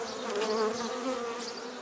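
Honey bees swarm over an opened hive frame of brood and fresh honey at a spring apiary, a dense, steady, close buzzing hum that fills the whole moment with no voices.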